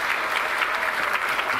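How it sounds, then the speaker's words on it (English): A round of applause from an audience at a church gathering, dense steady clapping filling the short moment without a break. "Get a round of applause."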